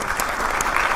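A crowd at a Chicago small business center event applauds Chef Erick Williams, a brief, dense burst of many hands clapping at a steady, full level.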